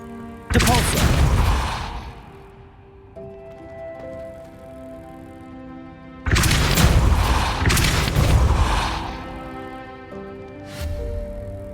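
A Depulso spell blast cast in a video game lands as two loud, booming bursts several seconds apart, each with a sharp attack and a rumbling tail over steady background music.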